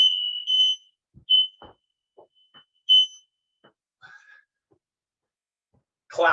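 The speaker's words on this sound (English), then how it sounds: "It wouldn't be cooking with the oven here if we didn't set off the fire alarm." Smoke alarm set off by oven cooking, sharp high-pitched beeps in short bursts with gaps between, mixed with faint kitchen clatter and a brief voice at the end.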